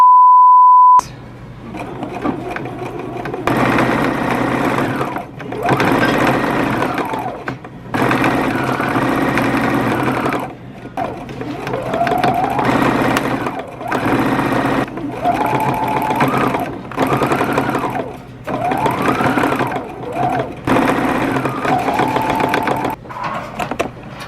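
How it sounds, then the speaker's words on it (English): A sewing machine stitches a garment hood in bursts that stop and start, some long and steady and some short, with a brief beep at the start and no talking. "Time to sew the hood that Grandma graciously seam ripped for us."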